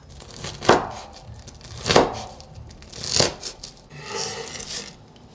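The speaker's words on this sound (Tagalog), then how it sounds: "Tapos, hiwain na natin yung itlog." A knife cuts through a boiled egg three times in a slow, even rhythm, each crisp slice close by, followed by faint rustling.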